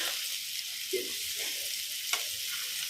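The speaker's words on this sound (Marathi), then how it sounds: "पीस केलेले परतून घ्यायचे आहे अशा प्रकारे" Raw banana pieces being sautéed in a little oil for a Marathi vegetable dish give off a faint, steady sizzling hiss, with a couple of soft stirring bumps and one brief sharper tap.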